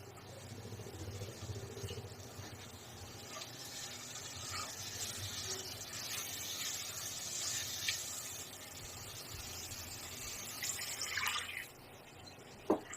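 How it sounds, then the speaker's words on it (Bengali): Water pours into a pot of tangra fish curry cooking with turmeric, salt, drumsticks and jackfruit seeds, making a steady, close rushing hiss for several seconds before ending in a short clatter. "পানি দিয়ে দিলাম মাছটা ভালো মতো কষিয়ে নিতে হবে"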